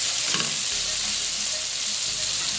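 Yellow carrots fry in a pan, making a loud, continuous hissing sizzle with a few soft stirring knocks near the start and no speech.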